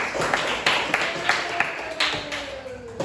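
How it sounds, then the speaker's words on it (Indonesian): Audience applause in an Indonesian classroom or teacher-training session, a steady stream of mixed hand claps with sharper individual slaps standing out over background noise and a faint voice. "Berikan tepuk tangan dulu."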